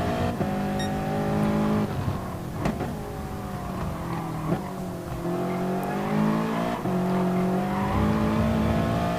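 Race cars in an online racing video game jostle through an overtake, engine notes droning and shifting pitch continuously, with revving swells and brief tire-squeal bursts at steady loud volume throughout.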